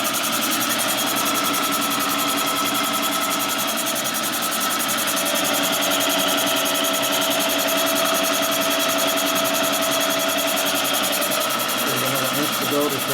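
A Kwik-Way boring machine runs on a 1978 Harley shovelhead cylinder, a steady, even mechanical whir and hum that stays loud and unbroken from start to finish.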